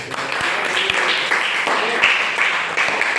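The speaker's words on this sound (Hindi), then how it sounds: "इनके लिए तालियां बजा दीजिए भाई" Students in a Jawahar Navodaya Vidyalaya classroom clap together, a steady dense patter at moderate loudness that runs the whole way through without fading.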